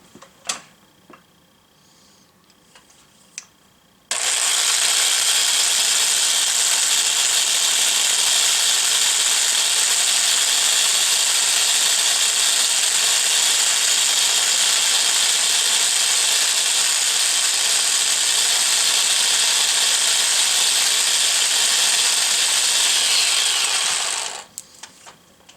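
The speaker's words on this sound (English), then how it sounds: "after we get one more bobbin wound" A bobbin winder spins thick variegated yarn onto a weaving bobbin, a steady loud whirring hum that starts abruptly after a few quiet seconds, runs unbroken for about twenty seconds, then stops.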